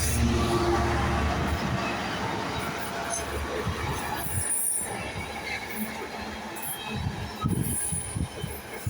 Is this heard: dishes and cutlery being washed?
no